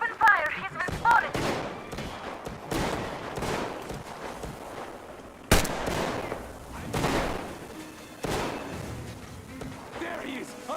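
Gunfire in the video game Metro Exodus, repeated sharp broadband cracks scattered through the scene, some single shots and brief bursts at moderate distance, with voices shouting in between.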